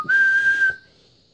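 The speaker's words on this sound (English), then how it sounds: "the lumberjack, to prove he wasn't scared, just whistled at the Wheedle" A single clear, steady whistled note from a lumberjack, held for under a second at a loud level and then cut off abruptly, with a faint tail afterward.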